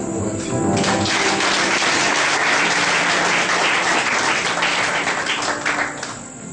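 A church congregation claps together in sustained, dense applause for several seconds, loud and close, tapering slightly at the end.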